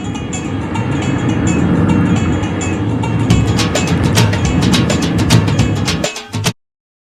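A Brecon Mountain Railway train in Wales rumbles loudly and steadily nearby, then a quick run of sharp clicks and clacks takes over before the sound cuts off abruptly.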